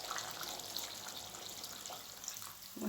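Water is poured into a pot of taro cooking on a gas stove in a home kitchen. It makes a steady, soft rushing splash that runs continuously at a moderate distance, with no one talking over it.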